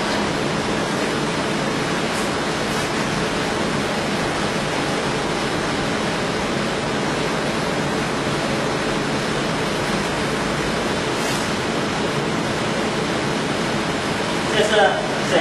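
A French baguette moulder machine runs in a bakery, giving off a steady, loud, continuous whooshing whir that holds for the whole stretch, with a brief clatter just before the end.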